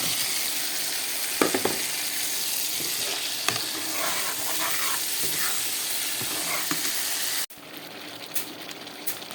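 Tomato paste goes into a pan of spices that have been frying for several minutes, giving a steady loud sizzle broken by scrapes and stirring clicks; after a brief pause near the end the frying hiss resumes more quietly.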